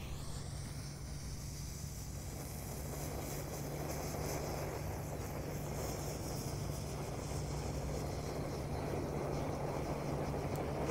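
Four small Lovely Fountain fireworks burning at once, a steady loud hissing, crackling spray that continues unbroken without pause, with no talk over it.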